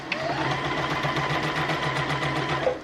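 A sewing machine back stitching along a garment inseam runs in one continuous, close mechanical whir with a fast, even stitching pulse, no talking.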